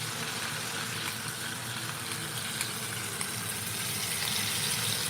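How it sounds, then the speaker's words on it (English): A three-pound chuck roast sizzles steadily in a hot pan, a dense, even frying hiss that stays loud and close throughout, with no talking over it. "Love the sizzling sound."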